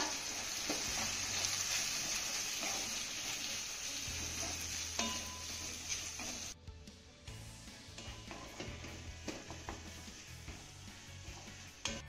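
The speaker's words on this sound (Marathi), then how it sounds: "घातलेल्या शेंगा आपल्याला ह्या फोडणीमध्ये 2 ते 3 मिनिटं चांगल्या परतून घ्यायच्या।" Steady sizzling of cluster beans frying in hot oil, with occasional stirring scrapes and a low hum underneath; brief dip partway through, no talking.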